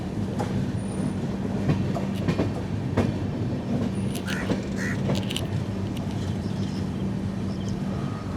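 Venad Express rolling into the Shoranur triangle near the Ottapalam link lines, heard from inside a coach: a steady rail rumble with a low hum, rhythmic wheel clacks and brief high squeals from the wheels, no voices.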